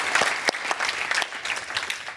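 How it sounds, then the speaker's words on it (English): Audience applause fills the room after staff are thanked at an event, a steady dense clatter of many hands clapping, fairly close and continuous for a couple of seconds with no voices over it. "We should first give it up for Dean and Joe and the staff"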